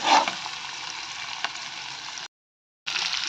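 Spices sizzle and crackle loudly in hot oil as a tempering is made for coconut chutney, a steady frying hiss that cuts off briefly and then resumes.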